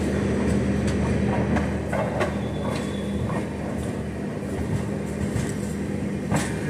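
A passenger train on the route from Asarwa in Ahmedabad to Udaipur City, heard from inside as a steady loud rumble with occasional rhythmic clicks and clatters of the wheels over rail joints.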